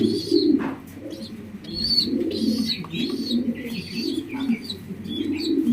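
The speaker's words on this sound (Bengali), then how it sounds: "একটা বাচ্চা কবুতর, একটা রানিং মাদি কবুতর" Racing and fancy pigeons coo in low, rolling, repeated calls close by, with faint higher chirps mixed in over a steady background hum.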